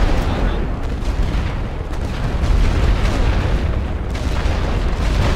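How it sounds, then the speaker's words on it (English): Mortar rolling barrage in the video game Elite Great War, a dense continuous rumble of overlapping distant explosions and booms, loud and sustained throughout. "I'm going for another rolling barrage. Come on, mortars."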